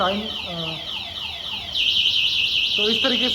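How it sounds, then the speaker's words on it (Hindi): An Okaya Freedum electric scooter's anti-theft alarm siren cycles through sweeping, warbling tones, then shifts to a higher rapid pattern, close by and continuous. "इसमें एक एंटी थेफ्ट अलार्म एक्टिव हो जाता है। तो अगर इसको कोई टच करता है तो इस तरीके से ये"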